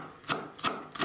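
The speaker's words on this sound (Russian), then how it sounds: "Мелко измельчить." Garlic cloves being finely chopped together with fresh cilantro on a board, giving three separated knife strikes at an even pace, close and fairly quiet.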